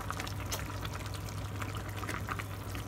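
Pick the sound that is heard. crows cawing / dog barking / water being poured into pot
water being poured into pot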